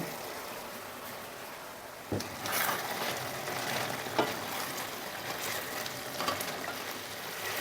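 Chicken sizzles and fries in a pan while a ground spice mix is stirred in, with steady close frying hiss and a few scraping stir strokes, no talking.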